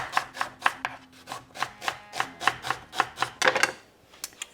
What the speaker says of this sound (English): thinly slice the onion.